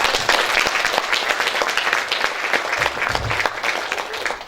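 A concert hall audience at a Chuvash folk ensemble's anniversary concert claps steadily, dense and loud applause filling the whole stretch with no pauses.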